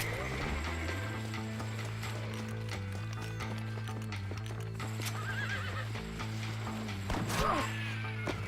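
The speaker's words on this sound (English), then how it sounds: "Watch out for the horse now." A horse in the Red Dead Redemption video game clip-clops steadily nearby under a sustained musical drone. It neighs in a sharp whinny near the end, and voices speak intermittently.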